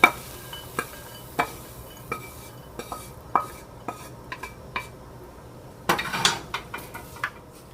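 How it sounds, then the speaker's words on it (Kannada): Ridge gourd bassaru with green gram and coconut being ladled from the cooking pot into a serving bowl, giving a series of sharp, close metallic clinks and scrapes of a spoon against the vessel at an uneven pace, with no talking. "ಇದನ್ನ ಸರ್ವಿಂಗ್ ಬೌಲಿಗೆ ಟ್ರಾನ್ಸ್ಫರ್ ಮಾಡ್ಕೊಂಡ್ಬಿಡೋಣ."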